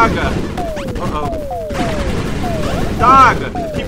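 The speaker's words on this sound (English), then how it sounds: "While I cause explosions!" Explosions in the video game Robot Wants it All: a loud, rapid string of booms and crashes layered with descending synthetic sweeps, peaking in a big blast near the end.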